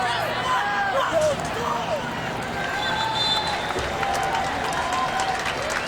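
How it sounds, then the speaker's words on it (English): Stadium crowd at a women's soccer match, Washington Spirit versus Portland Thorns, with steady broadband cheering and applause throughout, busy and fairly loud, with whistles and voices mixed into the roar. "Expect a good round of applause here for Washington"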